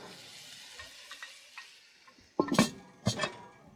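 Sausage frying in a pan at a family campsite, with a soft steady sizzle under light scraping and stirring, then two louder clattering bursts of the utensil against the pan near the end.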